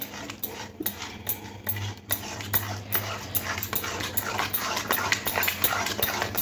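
A spatula scrapes and stirs boiled potato and semolina in a pan, producing rapid, repeated scraping strokes that grow busier toward the end, close and fairly loud, with no talking.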